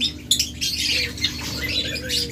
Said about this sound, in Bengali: একদম ব্রিডিং পেয়ার লাভবার্ড, এগুলো বলে লুটিনো আপার লাইন।